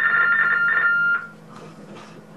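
A telephone rings with a trilling bell, repeated bursts that cut off after about a second, leaving quiet room tone.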